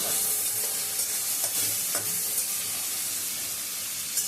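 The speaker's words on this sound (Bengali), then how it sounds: "কড়াই বসিয়ে দিয়েছি সর্ষের তেল দিয়ে দিয়েছি আর একটু চিংড়ি মাছটা ভেজে দেব" Shrimp frying in mustard oil in a wok, a steady loud close sizzle with a few soft stirring scrapes and light clinks of the utensil, and no voices.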